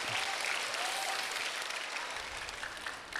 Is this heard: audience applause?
yes